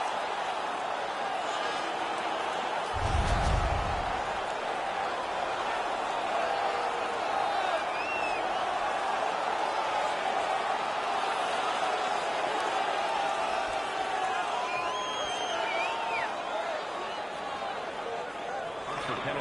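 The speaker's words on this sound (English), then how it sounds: "The home crowd is ecstatic. They're making all kinds of noise." A home hockey crowd cheers and roars steadily at an arena, a broad sustained din with scattered shouts and applause.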